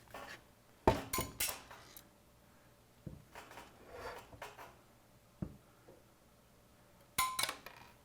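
Metal bolts clatter and clink loose from a robot's fuel mechanism assembly as it is flipped on its side, in a few scattered bursts of rattling with quiet gaps between.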